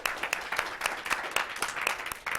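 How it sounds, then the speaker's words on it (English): Steady applause from an audience at a Knowledge Bowl quiz competition, many hands clapping in a dense, continuous patter at moderate volume with slight surges. "I want to give all of you a round of applause myself"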